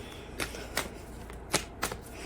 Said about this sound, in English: Now we shall shuffle.